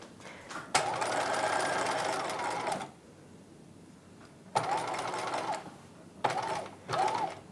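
A sewing machine stitches a 1950s halter dress circle skirt in three runs: a long burst of steady whirring, then two shorter bursts after a quiet pause, close and fairly loud.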